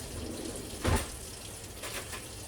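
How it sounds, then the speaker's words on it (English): A kitchen tap runs briefly while brownies are being baked, a soft watery splash that swells for a moment over a quiet hiss. "you might hear some water running"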